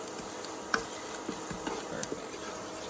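Garlic and lemon zest sauteing in a pan: a low, even sizzle with occasional light clicks and scrapes from stirring.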